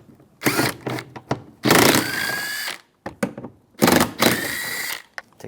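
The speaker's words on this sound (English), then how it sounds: "Now we're going to remove that screw. Use a 10mm socket." A 10mm socket on a ratchet or power tool removes a screw from the door panel of a 2007-2013 Chevrolet Silverado, giving close, loud bursts of mechanical whirring and clicking in several separate spells, with no talk.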